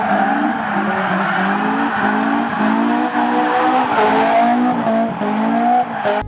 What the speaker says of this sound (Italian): La Honda S2000.